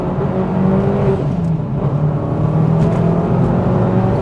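From inside the cabin of a Mitsubishi Evo VI RS rally-sport model on the move, the engine gives a steady, loud drone with a mild rise in revs and a whirring undertone, and nobody speaks.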